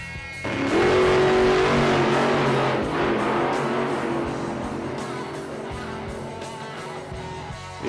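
Monster Jam monster trucks, Marvel Shield and Venom-themed Avenger, racing head to head: a loud engine roar surges up and revs hard, then holds a sustained drone that slowly fades over several seconds.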